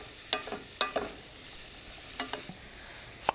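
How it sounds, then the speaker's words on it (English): Chopped garlic and onion fry in a pan under a soft, steady sizzle, broken by sharp scraping and clacking bursts as the pieces are stirred. "we're going to add 3 cloves of chopped garlic. And now the party's getting started. And our onion."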